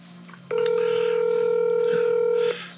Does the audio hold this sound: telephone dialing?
yes